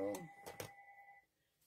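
A house telephone rings indoors, with a single clear electronic ring tone that sounds once and stops, following a burst of a woman's speech.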